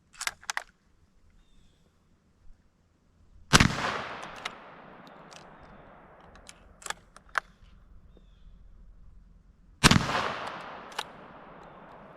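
An Ishapore .410 Enfield musket fires triple-aught buckshot in two loud, sharp shots several seconds apart. Each blast is followed by a brief rumbling decay, with clicks and clanks of handling between and around them, outdoors.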